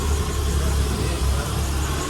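A Mitsubishi 4x4 mini truck engine running at a steady idle, loud and close, with its low rumble continuous throughout and no clear start visible.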